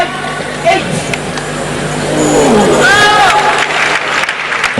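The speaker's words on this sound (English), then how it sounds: "You can hear the crowd reacting to that." A crowd at a 2006 World Championship badminton match in Madrid reacts and applauds, the clapping swelling into a sustained roar of applause and murmuring across the arena.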